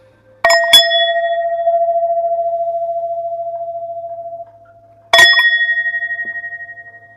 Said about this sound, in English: I invite you all to take a nice cleansing inhale and exhale at the conclusion of the chimes, okay? I'm gonna ring this twice.